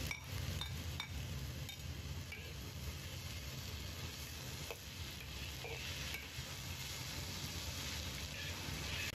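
Bitter melon and chopped egg stir-fried in a wok, a steady close sizzle with repeated scraping and stirring strokes throughout, no talking.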